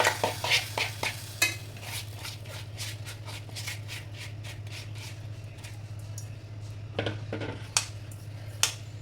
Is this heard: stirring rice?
yes